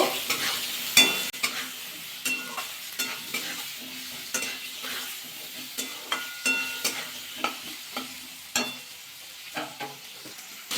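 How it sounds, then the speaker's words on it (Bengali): Potatoes and carrots seasoned with salt and turmeric fry in hot oil in a pan, with a steady sizzle broken by regular scraping strokes of a spatula stirring them, close and clear with no talk. "আলু আর গাজরটা একটু হালকা ভাজা করে নেব"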